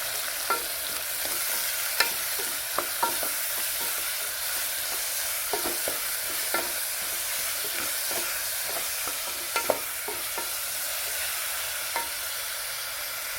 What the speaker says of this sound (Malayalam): ഉള്ളി വേഗം വാടി കിട്ടും. ഇനി നല്ലോണം ഇളക്കി കൊടുക്കും.